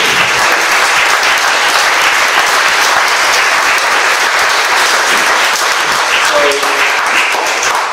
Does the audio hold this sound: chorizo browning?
no